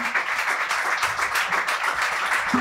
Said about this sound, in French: Je vais vous demander d'applaudir encore tous les musiciens